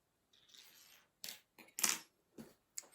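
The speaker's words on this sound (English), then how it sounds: "Cut the thread." A few quick, light snips of scissors cutting thread while sewing a handmade doll, close and quiet, spaced irregularly over a soft rustle.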